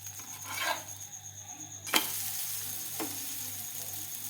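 Ragi wheat dosa made with urad dal sizzles steadily in oil on a hot pan, a soft continuous hiss with a sharp clack midway as it is turned over, then a fainter tap.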